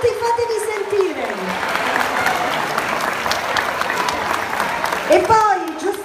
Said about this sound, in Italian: facciamo un grandissimo applauso di più! Siete tanti, fatevi sentire!